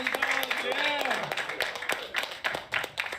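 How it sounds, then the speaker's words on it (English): Audience applause and cheering at a live event, steady clapping running through, with a voice talking over it and a few sharper claps standing out. "that's the type of applause that you need for yourself"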